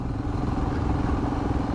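Royal Enfield Himalayan motorcycle riding at around 70 mph, a steady close engine drone with rushing road and wind noise that holds throughout without any talk.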